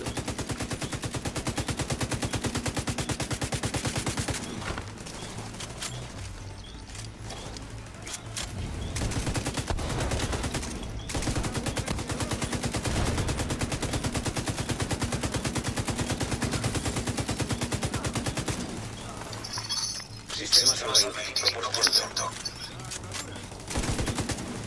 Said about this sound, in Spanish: dejo la torreta ahí que siga disparando